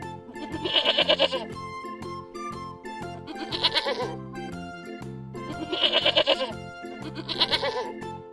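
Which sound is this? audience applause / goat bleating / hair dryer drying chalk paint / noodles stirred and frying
goat bleating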